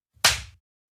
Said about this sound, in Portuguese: Tem som de tapa na cara.